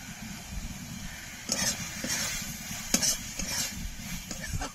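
Chicken sautés with red chili, coriander and cumin powder in a pan, a steady close sizzle broken by several sharp scrapes and clinks of a spoon stirring against the metal.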